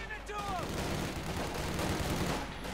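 Dense, continuous battle noise from a Company of Heroes 2 match: a rifle grenade blast and rolling gunfire fill the whole stretch, with a faint voice briefly audible near the start.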